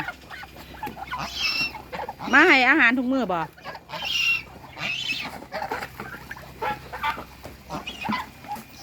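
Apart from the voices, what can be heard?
ducks, chickens, geese and turkeys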